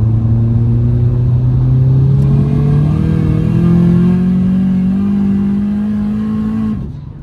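A 600 hp front-wheel-drive VW Scirocco with a DSG gearbox and a big turbo pulls hard in third gear, its engine note climbing steadily, loud and close, then cutting off sharply at the end with no talk.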